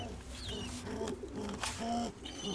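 Pigeons in a loft housing white and steel-coloured pairs, with soft low cooing notes repeating amid flutters and scuffling nearby, continuous across the stretch with no talk.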